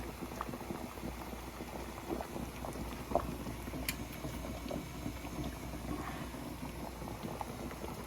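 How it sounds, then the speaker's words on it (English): A pot of water with frozen brisket boils hard on a stovetop, giving a steady, soft bubbling rumble close by throughout, with no talk. "We're going to let that boil like that for about 3 minutes"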